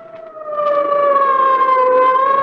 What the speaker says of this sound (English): Or the wild shriek of a siren as an ambulance catapults through the city's darkened streets.